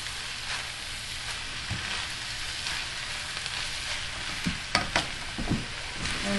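Soy sauce is trickled slowly into a low-fat pancit stir-fry, and the pan gives a steady close sizzle while a few stirring scrapes and clinks of the utensil come through near the end, with no voices.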